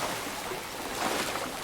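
A waterfall in the video game Indiana Jones and the Great Circle roars as a steady, dense wash of rushing water, close and continuous, with no voices.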